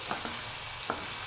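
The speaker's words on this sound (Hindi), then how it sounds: "इसे अच्छे से मिक्स कर लें ताकि इसकी अच्छे से ग्रेवी बन जाए।" Tomatoes are stirred into an aloo baingan gravy in a pan, with faint spoon scrapes and a soft sizzle in a brief, quiet moment.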